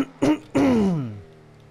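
A person clears their throat: a short rough grunt, then a longer voiced, rasping hack that trails off into quiet.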